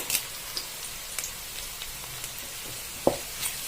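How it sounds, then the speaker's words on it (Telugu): Small chopped onions fry in a pan, giving a soft, steady sizzle with a few sharp clicks and taps from stirring. There is no talking. "ఇందులోకి చిన్నది ముక్కలుగా కట్ చేసుకున్న ఆనియన్స్ వేసి ఫ్రై చేసుకున్నాం"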